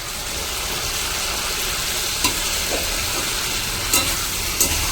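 Potato goes into sizzling fried masala in a pan, a loud, dense, continuous hiss with a few brief clinks and scrapes near the end, close and with no one talking.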